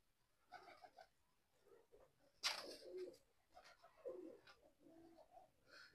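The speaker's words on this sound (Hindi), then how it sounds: "ये अपना टेडी कबूतर है" A pet pigeon in a Punjabi racing-pigeon loft cooing softly, with faint low throaty coos spread across the clip and one sharper, louder rustle midway against quiet background.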